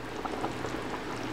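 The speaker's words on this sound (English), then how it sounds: "once the water starts boiling, you can add your sinigang mix" Water heating in a pot for pork rib sinigang gives a soft, steady bubbling hiss, faint and continuous, with no voices.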